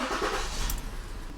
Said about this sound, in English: We got a 2007 Ford Edge with a really mean misfire.